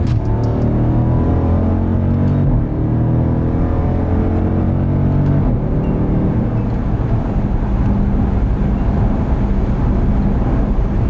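A heavy Jeep truck with a ZF8 eight-speed automatic accelerating hard, engine roaring loud and close with rising, stepping harmonics as the transmission downshifts and pulls through the gears, steady and continuous throughout.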